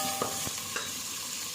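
Mutton pieces frying in oil in a pan, a low steady sizzle with a few soft stirring scrapes near the start, close and fairly quiet, with no talking.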